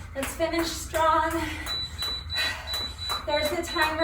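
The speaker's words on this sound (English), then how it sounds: "the timer does that long series of beeps to let me know that time is up" A workout interval timer sounds a long, steady high beep during a jump-rope session, running beneath a voice and background noise.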